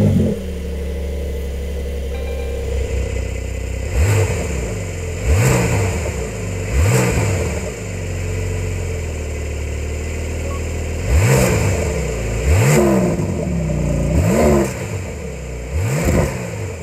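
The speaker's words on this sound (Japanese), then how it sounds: "ちょっとエンジン今かけてみたいと思います。" A Porsche 911 GTS flat-six engine starts and idles, then is blipped repeatedly in short, sharp revs that rise and fall, loud and close, with no talking.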